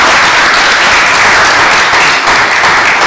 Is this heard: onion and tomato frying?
no